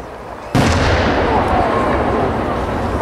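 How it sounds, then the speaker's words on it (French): A 125 mm Spanish Camuro aerial firework shell with a blue colour change bursts at the Saint-Cloud Grand Feu display: one sudden loud boom followed by a long, steady rumbling roar that fades slowly. "bombe 125 Camuro à changement bleu d'origine Espagne"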